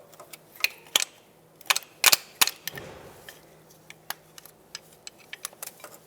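A plastic retainer clip is worked off the front strut of a 2014-2021 Mazda 6 during an ABS wheel speed sensor replacement, with several sharp close clicks and snaps followed by lighter scattered ticks of handling.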